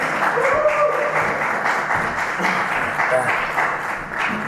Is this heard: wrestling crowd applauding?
yes